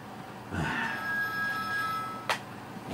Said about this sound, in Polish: O, telefon.